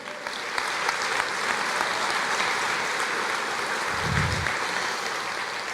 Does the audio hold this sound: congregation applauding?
yes